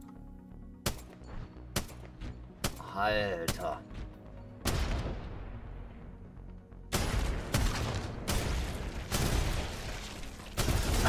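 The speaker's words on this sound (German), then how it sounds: "Also die Spitfire mit explodierenden Kugeln, 55 Schuss." A Spitfire light machine gun firing explosive rounds in the video game Apex Legends bursts out in sharp cracks and sustained rapid fire, with a brief whirring sweep in between and someone talking under the shots.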